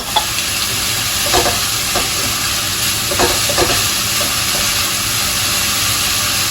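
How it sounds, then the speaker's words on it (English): Steady loud sizzling of ginger, garlic and green chili frying in hot oil with a little salt, with a few soft stirring scrapes cutting through the constant hiss. "ginger garlic and green chili, right? I'm going to fry this"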